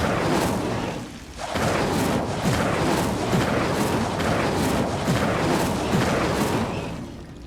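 Incendio fire spells cast in Hogwarts Legacy make continuous loud roaring, crackling bursts with repeated rhythmic flare-ups, dipping briefly after the first second before roaring on steadily.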